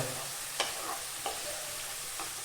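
Onions fry quietly in a pan, a soft continuous sizzle broken by a few crisp stirring scrapes at close range.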